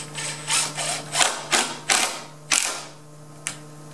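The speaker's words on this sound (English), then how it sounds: "adjust your screw gun so that it doesn't strip out the screws as you put it in there" A screw gun drives screws through an interior door's head jamb into the jamb leg, giving repeated short whirring bursts with ratcheting clicks, about eight spurts close by and no voices.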